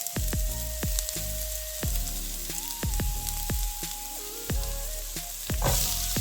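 Onions frying in a pan for a dish of minced meat, potatoes and eggs: a steady close sizzle with repeated sharp clinks and scrapes of a utensil against the pan, no voices.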